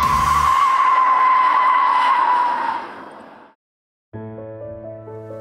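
AE86 H2/BEV concept car spinning out, a loud sustained tire skid squealing for about three seconds before fading into silence, then a steady tonal electric drive whine resumes.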